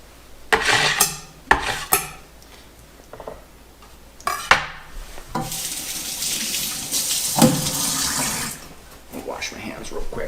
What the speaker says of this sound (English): I'll wash my hands real quick.